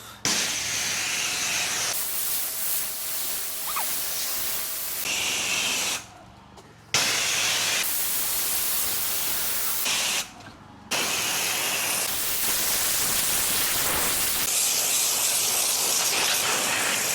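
Pressure washer spraying water across a stone patio and path surrounded by loose stones, a loud steady hiss with two brief pauses where the spray cuts off before resuming.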